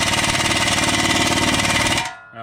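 An impact wrench hammers at the wheel bearing hub bolts on a 2012 Nissan Altima, a loud, fast, steady rattling burst that runs for about two seconds and then cuts off abruptly.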